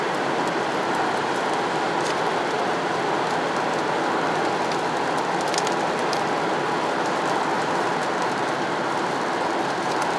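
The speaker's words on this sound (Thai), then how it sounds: "ตอนนี้ฝนน้อยนะครับ" Steady light rain pattering on a car windshield, a continuous soft hiss of drops with no talking, close and even throughout.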